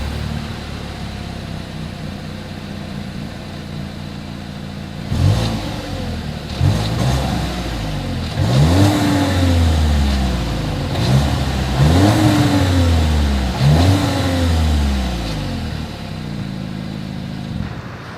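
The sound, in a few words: 2021 Volkswagen Tiguan exhaust revving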